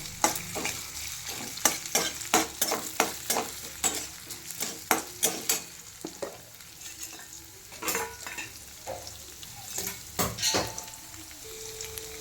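Potatoes sautéed in a pan for sabudana khichdi, with a spoon scraping and clacking against the metal in a quick, repeated rhythm over a soft frying sizzle, heard up close with no talking.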